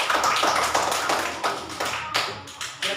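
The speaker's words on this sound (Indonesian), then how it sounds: "Ya, tepuk tangan dulu." Students in an Indonesian elementary classroom clap together for a group's presentation, a short burst of sharp, close hand claps in uneven clusters that fade and restart before stopping.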